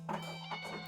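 Brief single meow from a cat in the video game Do Not Take This Cat Home, short and fairly soft over a steady low hum.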